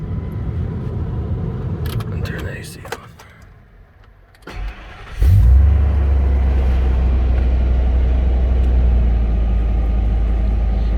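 A 2000 Ford Excursion engine cranks briefly and fires, then settles into a loud, steady low idle rumble close by, after a short spoken remark.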